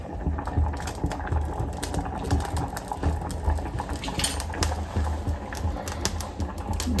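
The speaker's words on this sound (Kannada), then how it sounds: "ದ್ರಾಕ್ಷಿ ಗೋಡಂಬಿ ಹಾಕ್ತಾ ಇದ್ದೀನಿ." Raisins and cashews added to hot ghee for a tempering give a steady, close sizzle with scattered light clinks of a utensil against the pan, and no talking.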